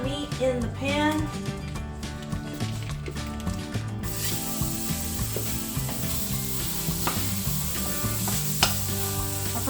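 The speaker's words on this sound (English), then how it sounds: "we're gonna go ahead and put the meat in the pan" Ground beef for crispy beef tacos sizzles steadily in a pan, a bright hiss that swells after a few seconds and runs under continuous background music.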